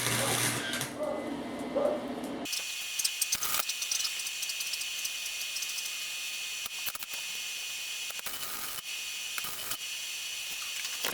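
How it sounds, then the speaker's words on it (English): Arc welder tacking a weld onto a cracked car exhaust on an EK hatchback, a steady close crackling hiss that runs for several seconds and drops out in brief breaks, with no voice over it. "I'm just gonna weld right here for right now to hold it"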